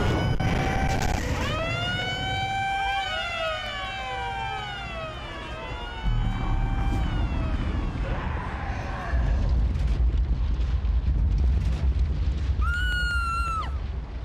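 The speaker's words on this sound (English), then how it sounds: "They are air raid sirens." Loud wailing air raid sirens from the Kyoto level of the video game Tony Hawk's Underground 2, several overlapping tones rising and falling over a low rumble, with a higher siren swelling near the end.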